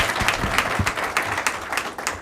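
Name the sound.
applause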